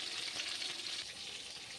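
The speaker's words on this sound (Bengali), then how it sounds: "মশলা ভাজি।" Spices for biryani frying in a pan, giving a steady, soft, close sizzle and crackle with no break for under two seconds.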